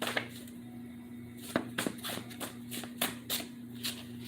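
Tarot cards are shuffled close by in a run of quick papery riffles and snaps, several sharp bursts over a low background hum.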